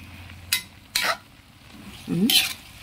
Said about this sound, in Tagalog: Mix-mix muna natin guys ng konti